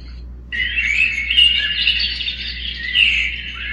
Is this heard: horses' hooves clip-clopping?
no